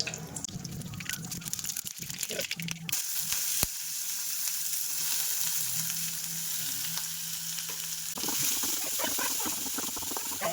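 Ground lentil dumpling mixture with ginger and salt sizzles and crackles steadily in a hot pan, a soft, continuous frying hiss with occasional stirring scrapes.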